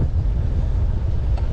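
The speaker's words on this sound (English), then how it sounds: "got the headwind going on" A headwind buffets the microphone on a fall bicycle ride, a steady, loud, low rumble of wind roar that fills the whole short stretch with no voices.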